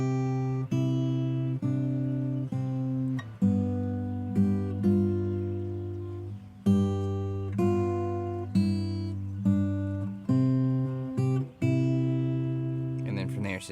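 Steel-string acoustic guitar picking a folk tune with melodic embellishments, a fingerstyle line of clear plucked notes over ringing bass, steady and close, with no voice.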